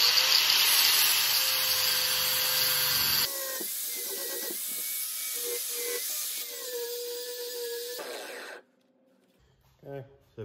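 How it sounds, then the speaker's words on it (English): An angle grinder fitted with cutoff and flap wheels cuts metal gussets for a Jeep build, a loud high whine shifting pitch in stages before cutting off to near silence, with brief sounds after. "Well, I only have one grinder."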